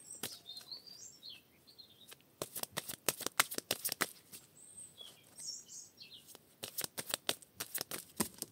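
Oracle cards for a tarot reading being shuffled by hand, bursts of crisp riffling clicks in two clusters, close and fairly quiet, with faint bird chirps in the background and no talking.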